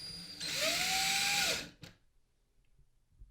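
A power drill drives a drywall screw into drywall during a gun magnet installation: one steady high whine lasting about a second that winds down, then a short click and near silence.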